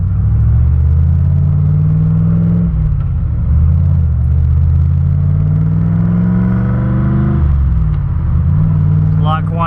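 A turbocharged LSX V8 in a Mazda RX-7 runs after a transmission install, a loud steady engine drone rising through gears with rev sweeps and clatter, heard from inside the car while someone talks.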